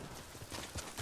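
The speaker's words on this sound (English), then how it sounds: "As soon as our horse comes out." Horse hooves clopping in Ghost of Tsushima as a mount appears, a short run of soft, fairly close thuds over steady game ambience.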